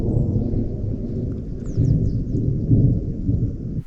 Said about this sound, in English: The rock faces are so huge, so you can hear the thunderstorm in echo sounds.